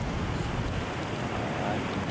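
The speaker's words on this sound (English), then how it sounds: "see the waves over there" Ocean waves on a beach at Goleta roar in a broad, steady wash of surf mixed with wind buffeting the microphone, continuous and fairly loud for a couple of seconds.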